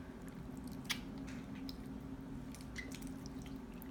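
Wet slime is kneaded by hand, giving soft squishy, sticky squelches and faint drip-like smacks that sit quietly over a steady low background hum, with no voices.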